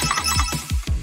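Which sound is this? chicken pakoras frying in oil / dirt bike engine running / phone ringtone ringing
phone ringtone ringing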